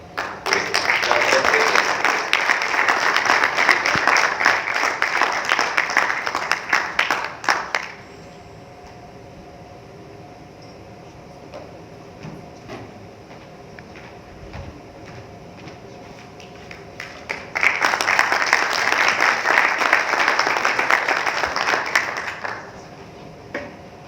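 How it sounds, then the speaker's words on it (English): Audience clapping at a medical conference session on transplant and cell therapy, a firm burst of applause that fades to a quiet room with faint shuffling, then swells into a second burst. "So please give a great applause to Ahmed Nabil."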